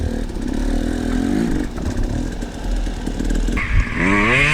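A 250 dirt bike on forest singletrack revving hard to pop over a log, a loud close engine blat with throttle bursts and a rising rev at the end, clattering mixed in.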